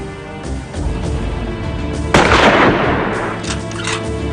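Gunfire aimed at President Kennedy from the sixth-floor window of the Dallas school book depository, a loud sharp report bursting out midway over a dense, rumbling dramatic background.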